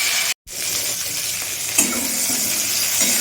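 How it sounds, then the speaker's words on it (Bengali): Salted cauliflower pieces fry in hot oil in a pan, a dense, steady sizzle close by, cut by one very short dropout near the start and then carrying on evenly. "এবার ফুলকপিগুলো ভেজে নেব।"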